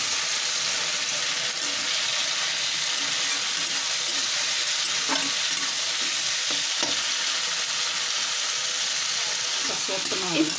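Chopped tomatoes sizzle steadily in a hot pan for sambar, with a continuous broadband fry hiss and occasional scraping stirs of a spoon against the pan, close and fairly loud throughout.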